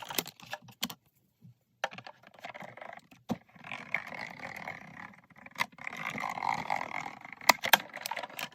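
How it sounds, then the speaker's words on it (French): A hand-cranked embossing machine draws card paper through an embossing folder, giving a faint crunching and grinding roll broken by sharp clicks and a brief pause, with no talk. "Que je vais passer dans la machine, dans un classeur d'embossage."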